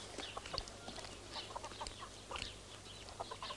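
Chicken clucking in a busy outdoor setting, short scattered calls and bird-like chirps over a steady low background hum, moderately close but fairly quiet.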